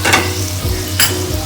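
A spoon drags through simmering country chicken curry gravy in a pan, two quick scraping strokes over a low bubbling hiss and hum, close and loud, no voices.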